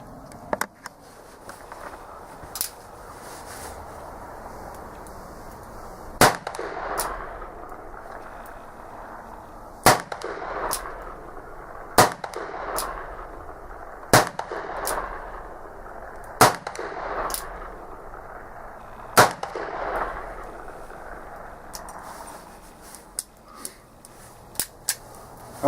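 Shots from an Uberti 1860 Army black powder revolver, about a dozen sharp loud cracks at irregular spacing with quiet gaps and faint handling noise between them.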